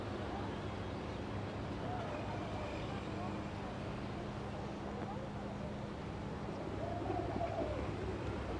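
Pigeons coo in a soft, low, repeating murmur under a steady outdoor hum, fairly distant and partly masked, while a person speaks nearby.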